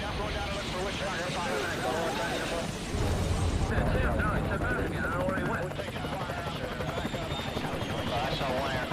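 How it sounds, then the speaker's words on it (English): Military helicopters in a Vietnam War combat flight beat steadily with a rotor chop and engine whine heard through radio chatter and voices throughout. "Over the radios, we can hear the choppers ahead of us"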